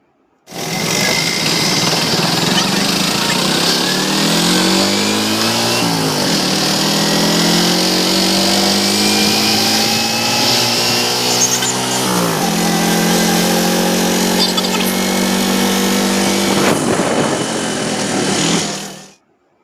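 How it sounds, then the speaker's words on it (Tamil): A small auto rickshaw engine runs steadily and loudly throughout, its pitch rising and falling as it revs on the move. "இங்கேருந்து ஒரு ஆட்டோ"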